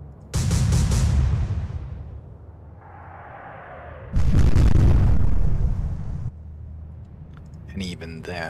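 Warship guns fire in the naval video game Atlantic Fleet, with two heavy, booming blasts that each roll on for about two seconds and a quieter rumbling stretch between them.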